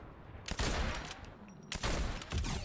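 Gunfire in the video game Fortnite, from a weapon that reloads after every shot: two loud bursts of close shots, each followed by a brief quieter gap, with no talking.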